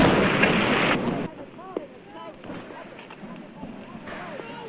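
Loud roaring rumble of the Hindenburg airship bursting into flames during its crash, a broad sustained burst that cuts off abruptly after about a second, followed by quieter crowd noise and voices.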